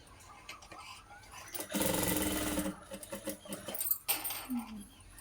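A sewing machine with a normal foot stitches thread piping onto a blouse. It runs in a short, faint burst that whirs for about a second, followed by softer intermittent mechanical rattles.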